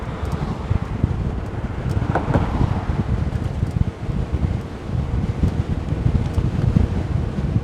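Wind buffets the microphone while riding an Addmotor E-43 CityPro electric bike toward Miami Beach, a steady broadband rushing roar with low gusty rumble that runs continuously and close throughout.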